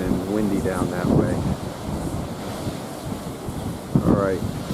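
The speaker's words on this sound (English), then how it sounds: "really blowing and windy down that way" Strong gusting wind from Tropical Storm Isaias roars steadily across the microphone, with broadband rushing noise and surf-like swells throughout, while someone talks over it.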